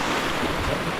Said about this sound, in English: The river is big, man.